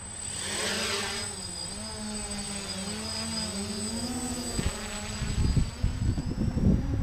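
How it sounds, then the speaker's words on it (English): Motors of a small quadcopter drone spin up into a steady, whining hum with sliding pitch, growing louder as it lifts off and flies nearby, with a few soft bumps near the end. "So again, we'll start these motors. Fire it up."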